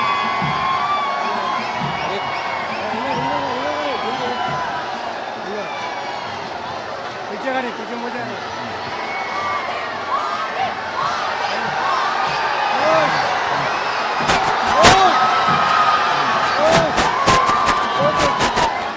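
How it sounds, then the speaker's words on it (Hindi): Large street crowd at a prime ministerial roadshow in Bangalore cheers, whoops and shouts continuously, a dense roar of many voices that swells louder toward the end with sharp bursts and whistles. "अभी लोग जो हैं बहुत शोरगुल कर रहे हैं"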